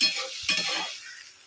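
Water splashed into dal in a hot pan, a quick burst of hissing sizzle that rises sharply then fades into a softer bubbling settle, close and brief with no talk.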